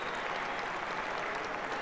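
A crowd applauds at a National Hurling League match, Dublin against Limerick, as a broad, steady wash of clapping that holds evenly loud for the whole moment.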